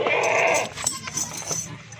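Goats and young goat kids being shown for sale bleat in short, close calls, with someone talking nearby and some rustling handling noise.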